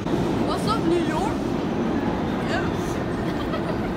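Subway train rumble inside the Times Square–42nd Street station in New York, a continuous low roar of the cars and platform din with faint squeals, while a voice talks over it.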